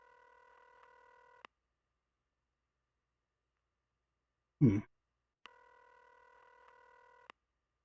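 A telephone rings out on an unanswered call: two long steady tone bursts of about a second and a half each, separated by silence and a brief soft thump, with no one picking up.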